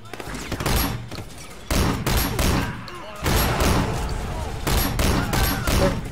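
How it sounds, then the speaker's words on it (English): Shotgun fire and heavy gunfight bursts in the Sleeping Dogs video game, loud repeated blasts in dense clusters separated by brief lulls, with faint voices beneath. "shotgun's not very good for long range shooting"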